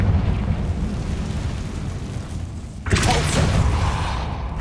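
In the video game Hogwarts Legacy, a Confringo spell goes off over a loud, continuous rumbling backdrop. The fiery explosion bursts in suddenly about two-thirds of the way through and leaves a bright, roaring wash.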